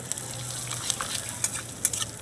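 Asafoetida and spices frying in a very hot kadai, a soft crackling sizzle with a few light stirring clicks, fairly quiet and brief.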